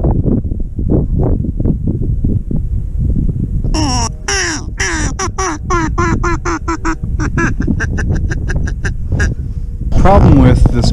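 Someone talks at first, then a burst of loud, rapid duck quacks breaks out close by from ducks flying over a marsh, repeating in quick series before more talk.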